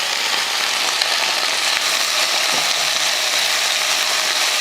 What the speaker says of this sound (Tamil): அந்த கடாயில் வந்து கொஞ்சம் எண்ணெய் இருக்குது, அந்த எண்ணெயில் போட்டு இந்த புதினாவை கொஞ்சமாக வதக்கிடலாம்